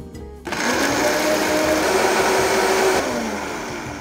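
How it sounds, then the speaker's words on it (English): A blender blitzes basil with neutral oil such as canola or grapeseed, a loud steady whirring motor that starts abruptly, runs at high speed for a few seconds, then winds down slightly toward the end. "So don't blitz it for too long or else the blade will heat up and then the oil will turn brown."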